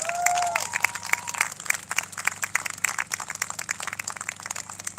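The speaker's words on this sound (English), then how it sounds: "So can we give them a round of applause, please?" An outdoor crowd at a charity run in Pearson Park claps for the event organisers, scattered hands clapping in an uneven patter across the open air after a brief high tone at the start.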